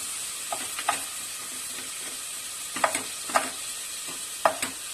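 Chicken cooks in a pan with stock added for keto garlic rice, giving a steady close sizzle broken by several brief stirring scrapes and splashes, with no talking.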